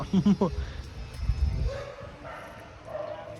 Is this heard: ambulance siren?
no